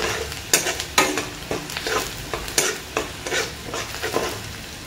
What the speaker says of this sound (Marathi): बघा कांदा मस्त असा लालसर हो द्यायचा.